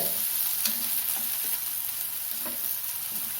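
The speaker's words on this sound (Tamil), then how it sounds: "வெங்காயம் ஒரு நிமிஷம் வதங்கட்டும் இப்போ வெங்காயம் வதங்கிடுது" Onion sautés in a pan for a small yam roast, a steady close sizzle with a few soft stirring taps, and no voices.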